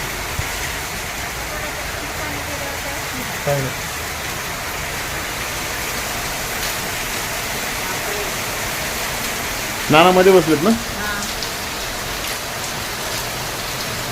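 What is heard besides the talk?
heavy rain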